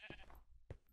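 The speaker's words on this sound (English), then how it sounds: "You got that sheep?" A sheep bleats in the video game Minecraft, two short close bleats within a second, faint and clear with no speech over them.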